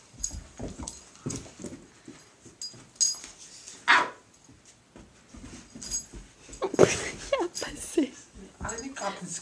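A dog lets out short barks and high whimpering yelps between bursts of close human talk and rustling.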